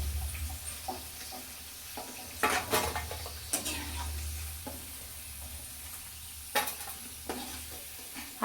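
Potato bhaji fritters frying in hot oil and being lifted out, a low steady bubbling sizzle broken by several sharp clinks of a slotted spoon against the pan, no voices.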